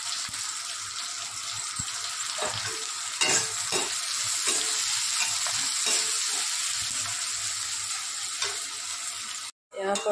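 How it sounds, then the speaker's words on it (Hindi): Chopped onions frying in a pan with cumin, green chilli and ginger-garlic paste for a besan sabzi; a continuous close sizzle with scattered crackles and stirring scrapes, ending in a brief silence, with no speech. "यहाँ पर देखिए कांदा मेरा फ्राई हो गया"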